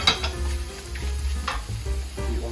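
Squid dry-frying in a hot pan without oil, an even close sizzle punctuated by a few quick stirring scrapes of a utensil against the pan, with no talking.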